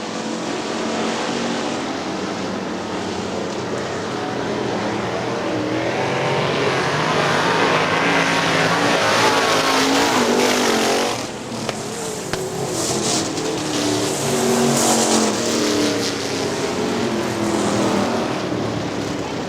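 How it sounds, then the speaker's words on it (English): Super stock race cars roar past at Hartford Speedway Park, a dense, continuous engine drone from several cars that swells and shifts as the pack runs down the back straightaway, loud and unbroken. "Matt Seeley right behind your leader, Jim Abbott, down the back straightaway."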